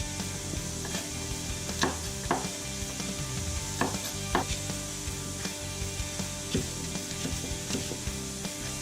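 Carrots sizzling and frying in a pan while a slow-cooked beef ragu is prepared, a steady close hiss broken by occasional utensil clicks and stirring scrapes, with no talking.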